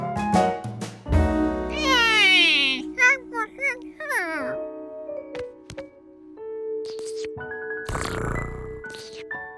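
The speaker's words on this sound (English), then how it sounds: "Being a cat, Gnocchi found it exhausting watching someone else do so much work." In a Curious George kids' cartoon kitchen scene, an animated cat gives drawn-out, rising meows amid chiming sound effects, with cartoon voices speaking around them.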